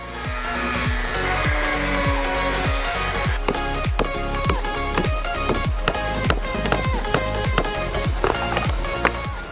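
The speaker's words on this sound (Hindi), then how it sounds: "यहाँ पर एक एंगल ग्राइंडर का ही यूज़ करना पड़ेगा क्योंकि ये बहुत टफ चीज़ है" An angle grinder cuts into the tough casing of a car lead-acid battery, sounding loud and harsh with repeated rhythmic rasping bursts over a constant motor whine.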